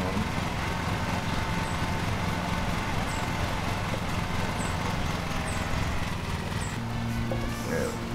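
A lawn mower engine runs steadily in the Lawn Mowing Simulator video game, a continuous close drone that holds level throughout, with a brief voice partway through.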